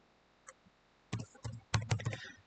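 A computer keyboard being typed on while entering numbers for a crypto futures trade, with a faint click early on, then several quick bursts of key presses close by, with no voices.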